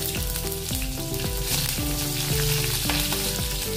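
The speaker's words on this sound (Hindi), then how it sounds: "अभी इसमें 1 चम्मच तेल बचा है, तो थोड़ा सा जीरा डाल देंगे, आधा चम्मच। इसमें हरी मिर्च डाल देंगे।" Cumin seeds and green chilies sizzling in a spoonful of hot oil in a pan, a dense continuous crackle and hiss that stays loud and even from start to finish, with occasional stirring scrapes.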